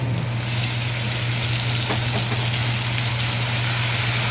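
Tomato and green chili fry hard in a pan with ginger-garlic paste, a loud, dense, continuous sizzle and crackle close by, steady throughout with a low hum underneath.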